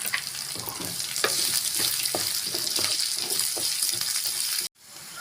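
Onions, dal and curry leaves sauté in a hot pan for a Tamil banana flower stir-fry. The sizzle is steady and close, with stirring scrapes and clicks throughout, then cuts off abruptly near the end.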